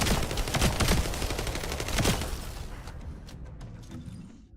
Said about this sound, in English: Let's shoot him.